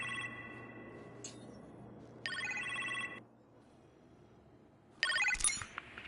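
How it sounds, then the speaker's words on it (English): A telephone rings in the kitchen in the Iron Man VR video game, an electronic trilling ring in three separate bursts with quiet pauses between them, heard clearly with no voices. "You appear to have a phone call in the kitchen"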